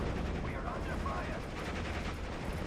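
Machine-gun fire in the World War II strategy game Steel Division Normandy 44, a dense, steady crackle of distant automatic fire and battle noise filling the whole stretch, with no clear talking.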